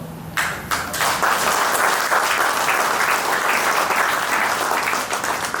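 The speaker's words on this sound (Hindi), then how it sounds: "यदि आप अरबपति बनना चाहते हो तो आप ताली जरूर बजाओ दोस्तों।" A large audience at an offline technical training event claps steadily, a loud dense wash of many hands that starts abruptly after a brief pause and keeps going without talk.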